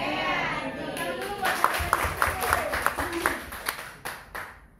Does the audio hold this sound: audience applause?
yes